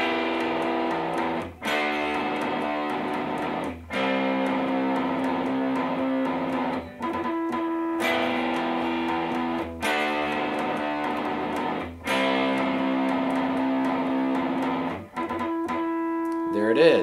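Electric guitar plays distorted chord passages broken by short gaps and mixed with ringing harmonics, loud and close, alone without talking, ending on sustained harmonic tones.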